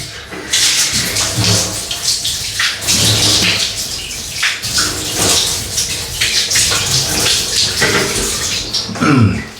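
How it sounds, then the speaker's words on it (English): Running water splashes loudly and continuously as shaving soap is rinsed off, a close, steady gush with shifting spatters and no talking. "Now rinse off."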